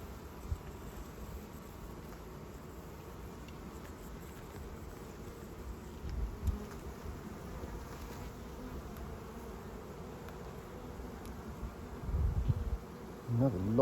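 Honey bees swarm around an open hive at a botanical garden apiary, a constant close droning hum with individual bees passing near, plus occasional handling thumps and rustles.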